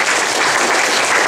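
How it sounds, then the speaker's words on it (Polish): Dense, steady applause from a crowd, loud and continuous throughout with no pauses. "Myślę, że brawa się jak najbardziej należą."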